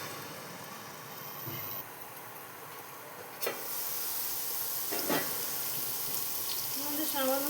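Potato pieces lightly frying in hot oil in a pan, a low steady sizzle and hiss with a couple of brief knocks, and a voice speaking near the end.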